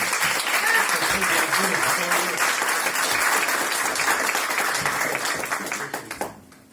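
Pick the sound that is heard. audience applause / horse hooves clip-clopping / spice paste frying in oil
audience applause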